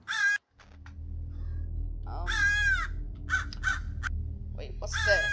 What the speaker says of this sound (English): Wait, it's crow.